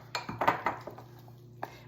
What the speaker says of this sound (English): We're just gonna stir all this together and get it incorporated.